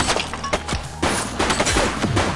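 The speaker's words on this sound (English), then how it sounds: "She's shooting!" Rapid video-game gunfire in a police chase shootout, with sharp bursts of shots and booming impacts that come loud and dense throughout.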